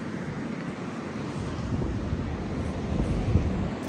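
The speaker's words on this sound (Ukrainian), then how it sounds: "сьогодні вітер такий дуже великий" Strong wind buffets the microphone near the sea after two days of rain, a steady loud roar with low rumbling gusts and no voices.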